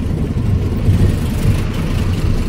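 A tractor on a rough road gives a loud, steady low engine rumble that stays close and constant with slight surges, with no talking.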